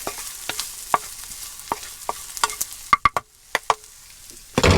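Onions sizzle in a frying pan inside a motorhome kitchen, while sharp clicks and scrapes of stirring and turning come at irregular intervals over a soft hiss, ending in a louder burst of frying.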